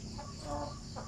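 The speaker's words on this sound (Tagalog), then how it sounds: "Mo ni ko mga syamo dire." Shamo chickens making a few soft, nearby clucks in a quiet yard, brief and low in level.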